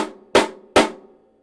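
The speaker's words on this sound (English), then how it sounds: "So that's called a prepared rim shot." Stick laid across a snare drum rim struck in a prepared rim shot, three sharp cracks at roughly even spacing, each with a short ringing decay, close and alone.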